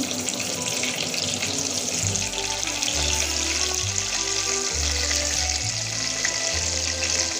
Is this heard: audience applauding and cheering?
no